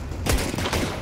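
A short burst of Counter-Strike: Global Offensive gunfire gives two quick clusters of loud, close booming shots within about a second.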